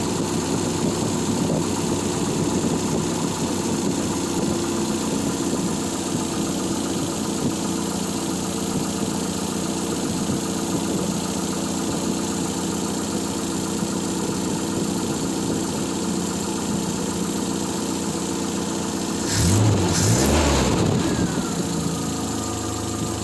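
A Triumph Spitfire engine idles a little high after months off the road, a loud, steady, close rumble with slight knocking vibration and a brief rise near the end; no talking over it.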